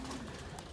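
Racing pigeons in a breeder aviary giving a soft, low coo, a brief murmur near the listener amid faint background noise.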